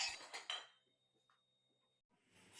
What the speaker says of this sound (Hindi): तब तक मैंने कहा चलो जी लगे हाथों फटाफट से ये बर्तन धो देते हैं